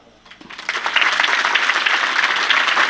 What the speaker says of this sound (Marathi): त्याच्यासाठी जोरात टाळ्या वाजवा.